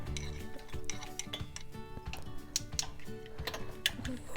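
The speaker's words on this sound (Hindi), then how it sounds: "2 प्याज ले लेंगे मीडियम साइज़ के और उनको बारीक सा काट लेंगे।" Two medium onions chopped finely with a knife on a board, rapid irregular light taps and clicks, close but quiet, with faint kitchen clatter and no speech.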